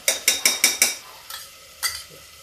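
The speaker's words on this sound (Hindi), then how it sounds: "अब इसमें हम डालते हैं ये मेरी चने की दाल" Chana dal tipped into sizzling masala in a pan, with a quick series of five sharp scraping stirs followed by a few scattered clinks and softer sizzles, close and alone.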